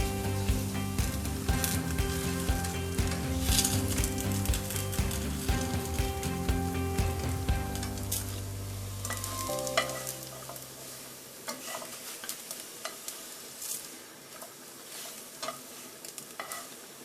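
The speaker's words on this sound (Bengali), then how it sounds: "এভাবে এপিট ওপিট করে ভালোভাবে আরেকটু ভেজে নিব।" Kheer patishapta pitha frying in a pan, a steady close sizzle with a musical background that cuts out partway, leaving softer frying and occasional spatula scrapes.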